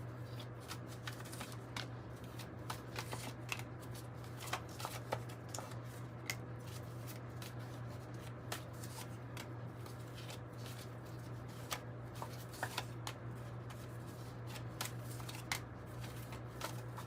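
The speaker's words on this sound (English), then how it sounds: "It is the 108 deck." Tarot cards from a 108 deck being shuffled by hand, a steady run of soft riffling slaps and flicks over a constant low background hum, close and fairly quiet throughout.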